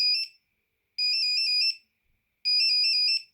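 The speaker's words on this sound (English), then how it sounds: "Your phone's ringing, your phone's ringing." Alcatel BC2 mobile phone ringing with its built-in ringtone, three bursts of bright electronic trilling separated by short silences, clear and close with no talking.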